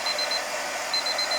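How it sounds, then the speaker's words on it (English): A kitchen-style timer alarm beeps in short rapid bursts, two clusters of high electronic pips over a hissy background. "okay, there's my timer."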